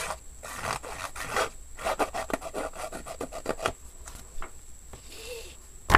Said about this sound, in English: you want to sit it on top of the paper, and then you just run it over the edge